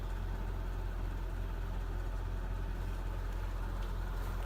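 A 2002 Mercedes-Benz S55 AMG engine idles with a steady, deep rumble, constant and unchanging throughout with no voices.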